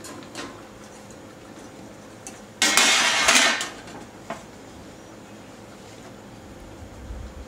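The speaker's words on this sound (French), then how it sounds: "Démouler immédiatement sur une grille la génoise sortant du four." A freshly baked genoise sponge is turned out of its metal tin onto a cooling rack: one loud burst of rattling, clattering metal about a second long, close by, then a quieter knock in an otherwise still kitchen.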